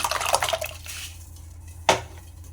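Ground paste tipped into the water left from boiling lentils and stirred, giving wet sloshing and clinking of a pot, with a sharp splash-like burst near the end, fairly close and no talking.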